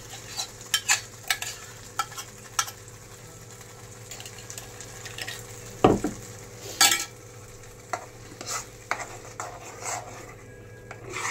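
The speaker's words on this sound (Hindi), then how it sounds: "डालते हुए अच्छे से फ्राई कर लेंगे मसाले को" Masala gravy for bhaji fries and is stirred in a pan, with a steady low sizzle under repeated scraping stirs and one louder clank partway through, close by with no talk.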